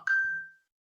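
A single bright phone notification ping rings out, a clear tonal chime that sustains briefly and fades over about half a second, with nothing else around it.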